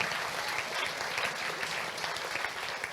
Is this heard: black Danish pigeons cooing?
no